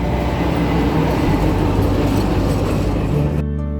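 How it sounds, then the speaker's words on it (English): A Soviet KTM-5 tram rolls past close by, a loud steady rumble with rattling wheels that cuts off abruptly at the end. "Here it is, the famous Soviet KTM-5 tram."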